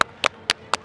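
Four sharp, evenly spaced hand claps, close and fairly loud, with short quiet gaps between them and no talking.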